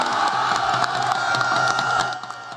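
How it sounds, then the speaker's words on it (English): A packed crowd at a political rally for the Vice President chants and screams, a dense, loud roar with rhythmic shouts throughout that eases slightly near the end. "The crowd hyped on adrenaline and fighting for space just to catch a glimpse of the Vice President chant and scream their lungs out"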